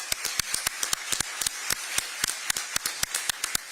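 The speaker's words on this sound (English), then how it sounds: "Let's give them a round of applause." Sparse applause at a city address event, a handful of distinct claps in an uneven rhythm, fairly quiet and close, with no talk over them.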